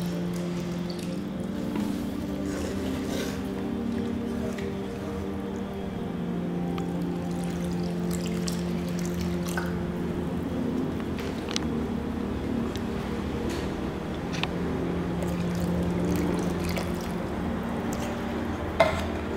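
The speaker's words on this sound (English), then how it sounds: "So you just slowly stir in your milk, and you kind of want to use a wooden spoon to do this" Milk being poured and stirred with a wooden spoon into creamy sweetcorn soup in a pot: a steady, close bubbling and swirling texture with soft scraping, continuous and fairly loud, no voices.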